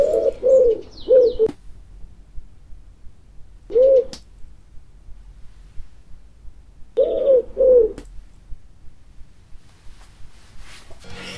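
Pigeon cooing in several short bursts of soft, rolling coos, a few closely paired, separated by quiet gaps, fairly close and alone with no talk.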